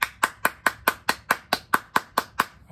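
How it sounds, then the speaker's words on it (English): Loud hand claps in a steady, even rhythm, about a dozen sharp strikes evenly spaced and close up, played as a clapping game in a children's music class. "They played clap loud."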